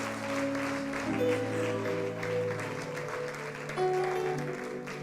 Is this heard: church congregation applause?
yes